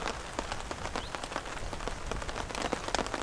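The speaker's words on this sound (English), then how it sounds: "Nice shots of the rain hitting the water." Rain falls steadily onto a pond's surface, a dense close patter of drops with frequent small splashes and no voices.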